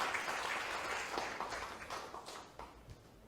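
Applause at a party candidates' joint rally in Gyeongbuk welcoming a speaker, a distant, fairly faint crowd clapping that tapers off gradually over a few seconds.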